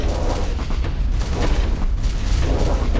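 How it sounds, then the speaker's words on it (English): Missiles fire and explode in the space combat game Starfarer, a dense, continuous roar of booming blasts and rumbling impacts filling the whole stretch with no pauses. "Fire the missiles."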